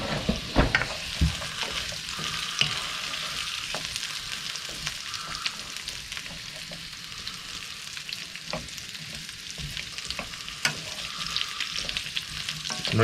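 Vegetables for a Christmas lunch frying in melted fat in a pan, a steady close sizzle with broadband crackle throughout and occasional clicks of stirring, no talking.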